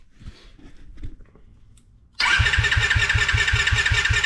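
A Tao Tao DB10 project dirt bike fires after a few faint clunks and settles into a loud, close idle with a rapid, regular putter.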